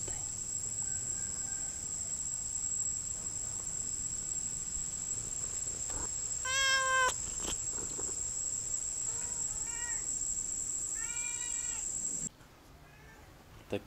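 Cats hiding in an old gutter give several high, drawn-out meows spaced over several seconds, heard against a constant shrill insect chirr outdoors.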